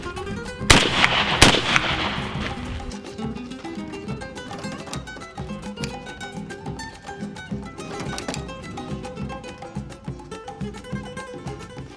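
A shotgun fires a reloaded Remington American hull: two sharp, loud reports in quick succession, followed by dense ringing, clattering sound that carries on throughout.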